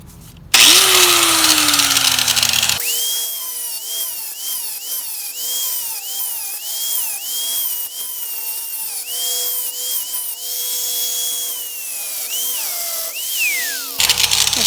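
Harbor Freight angle grinder cutting into a rusty Volkswagen bus frame, spinning up with a rising whine, then screeching loudly with pitch dips as it bites into the metal, before stopping abruptly.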